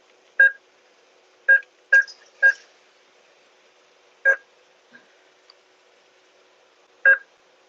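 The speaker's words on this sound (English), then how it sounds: "Sorry about the beeping. I know it's loud." Short electronic beeps sound one at a time from an ATM keypad at irregular intervals, seven in total, sharp and close against near silence.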